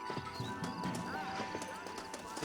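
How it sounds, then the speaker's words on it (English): A horse in the video game Red Dead Redemption, its hooves clip-clopping in a quick trotting rhythm with a brief whinny, fairly quiet, while someone talks over it. "Está mi caballo, ahí está."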